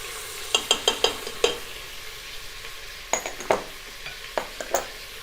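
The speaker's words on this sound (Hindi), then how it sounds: "कुछ देर गोश्त को भूनेंगे जब तक इसका कलर चेंज हो जाए" Mutton with chopped green chili frying in a pot, a low continuous sizzle punctuated by clusters of metallic spoon clinks and scrapes against the pot, close and without voices.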